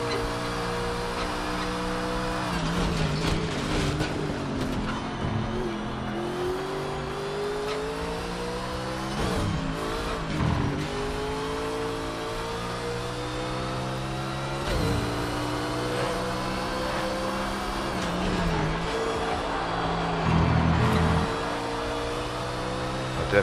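Racing car engine in the Project Cars 3 video game, revving and shifting as the car drives around a curve, with steady high-pitched engine drone rising and dropping through gear changes for a sustained stretch, with no talk over it.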